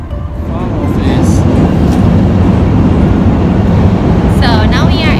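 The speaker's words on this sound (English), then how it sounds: "So now we are in the subway" Steady loud rumble and rattle of a moving subway train from inside the carriage, with a constant roar throughout and a brief high squeal near the end.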